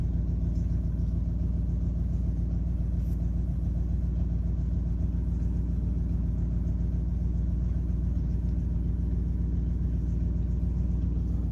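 A 2003 GMC Envoy engine idles steadily after a jump start on a dead battery, a close, even low rumble that holds unchanged throughout.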